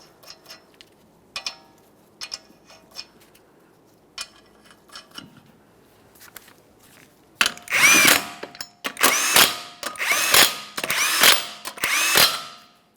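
Power tool spinning 21mm lug nuts onto the front wheel of a 2014-2019 Toyota Corolla, first faint clicks and taps, then five loud close bursts of whirring drilling in steady succession.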